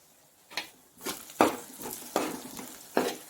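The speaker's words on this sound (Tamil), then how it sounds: "வெங்காயம் இனிமேல் நல்லா எண்ணெயில் பரவி விட்டு வச்சுக்குங்க. இது நல்லா வதங்கி வர வரையும் நம்ம கொஞ்ச நேரம் வெயிட் பண்ணணும்." Half a kilo of onions sautés in oil in a pan for Tamil tomato gravy, with a soft sizzle under four or five distinct scraping stirs of a spoon against the pan.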